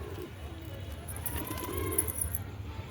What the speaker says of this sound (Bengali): হ্যাঁ এটা চিলা বুড়া পায়রা।